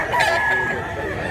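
A rooster kept for sale crows once, loud and close, in a single drawn-out call lasting just over a second.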